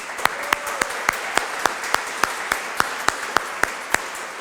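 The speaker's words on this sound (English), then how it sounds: "How about a round of applause for both of them?" Slow, evenly spaced claps ring out at a reception, a sparse rhythmic handclap at moderate distance with little else around it, more like a few people clapping in time than a full crowd.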